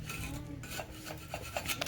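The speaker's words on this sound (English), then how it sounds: "So now I'm going to clean up this catalytic converter, scrape off all the JB Weld" A blade or scraper rasps hardened JB Weld off the shell of a catalytic converter from a 2006 Lexus IS350, in a run of short scraping strokes that come close and steady with no talk.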